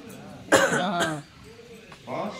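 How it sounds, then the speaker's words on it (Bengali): An ailing elderly man coughs in a short, harsh burst of two or three rough coughs up close, followed by a brief pause and a fainter throat-clearing hack. "সব সময় কাশি তোমার সে লেগেই আছে।"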